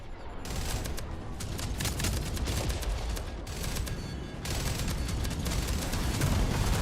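Missiles and weapons fire in a space combat video game, with dense rapid bursts and explosive crackle running continuously and loud, no talk.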